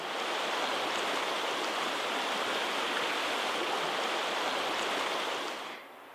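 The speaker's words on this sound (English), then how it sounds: "the creek is relatively shallow up there, maybe a couple of feet deep, and faster moving" A shallow, fast-moving trout creek about two feet deep rushes over stones in a riffle, giving a steady, full broadband wash that holds constant alone before easing off near the end.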